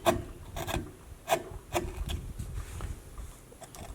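A carving gouge cutting into cottonwood bark, a series of short dry rasping scrapes and rubs at an irregular rhythm, close and fairly quiet.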